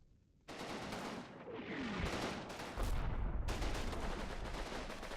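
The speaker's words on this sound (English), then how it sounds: "he started firing already. I hope the mortar's hitting" Mortar and gunfire in the Combat Mission wargame, set along the Seine: a rising whistling shell, then heavy booming impacts and sustained rattling gunfire, loud and dense with no talking.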